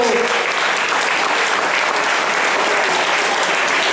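Applause for junior 3000-metre runners at a Grand Prix race award ceremony, a steady, dense clapping crowd filling the whole stretch at close range.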